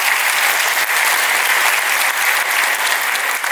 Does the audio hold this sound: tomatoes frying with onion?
no